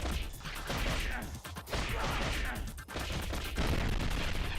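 Rapid gunfire and crashing impacts burst from a PlayStation video game in several loud, broad volleys with brief gaps between them, with no talking.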